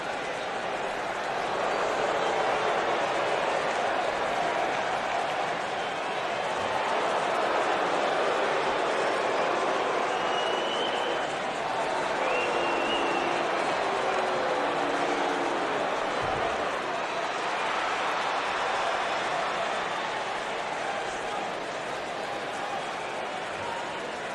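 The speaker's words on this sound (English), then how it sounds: "And Michael, it sounds to me like this crowd already picked the one who they want to win this match." A crowd in the WWE 2K19 wrestling video game arena roars continuously, a dense, steady wash of cheering and noise that stays loud throughout.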